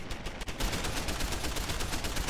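Sustained turret gunfire in the video game Deus Ex: Human Revolution, a dense continuous rattle of rapid shots that stays loud and unbroken throughout.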